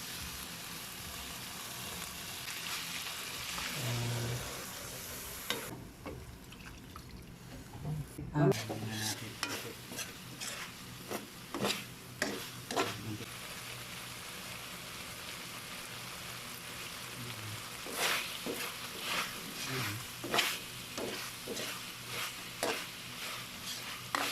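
Dinuguan pork blood stew sizzles steadily in a pan while a spoon stirs and scrapes in repeated strokes, close and fairly loud, with occasional soft clanks.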